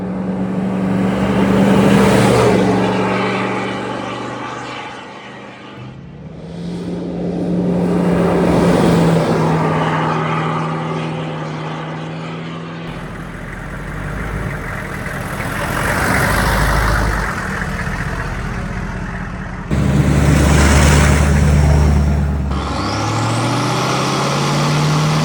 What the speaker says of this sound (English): tell instantly that it's a Hummer going down the road, just from all the freaking gear noise this thing makes.